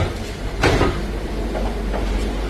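Train travelling through the Channel Tunnel between France and England, a steady low rumble from inside the carriage with a brief louder clunk and faint rattles over the continuous rolling noise.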